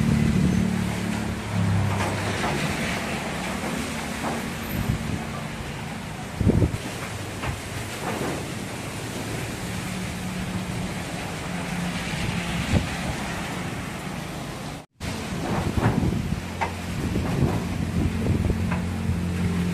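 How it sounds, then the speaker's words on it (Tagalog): Strong typhoon wind in Iloilo City, Philippines, roars steadily and buffets the microphone, swelling with occasional gusts and brief knocks, no voices. "kalakas ang hangin dito sa amin"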